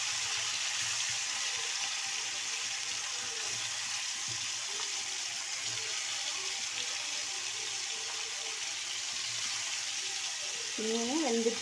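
Sudai fish fries in hot oil with a steady, even sizzling hiss close by. A voice speaks briefly near the end.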